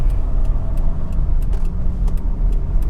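Mercedes-Benz E220 CDI W211 2005 diesel turbo sedan accelerating, with a loud, steady low engine drone and road rumble from inside the car, without speech.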